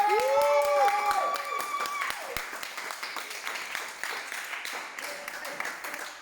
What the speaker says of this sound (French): Donc on l'applaudit même s'il est pas là, c'est pas grave.